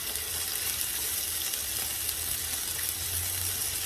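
Onions, garlic, potatoes and a few carrots sauté in a pan for corned beef kaldereta, an even, dense sizzle holding steady throughout with no talking.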